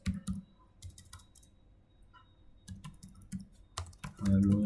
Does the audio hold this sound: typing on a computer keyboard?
yes